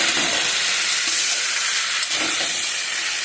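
Water poured into a hot pan of drumstick (sajne data) charchari bursts into a loud, steady, close steaming hiss that fills the whole moment without letting up.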